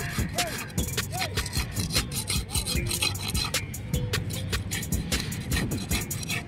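Fish being cut and cleaned at Kovalam fish market, busy rasping scrapes and sharp chopping knocks repeating steadily, close and loud amid market bustle.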